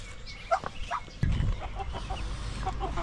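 Young ducklings, now grown fairly large, peep and chatter in a backyard pen beside their small pool, with short bird calls scattered through steady low background noise and a brief thump partway through.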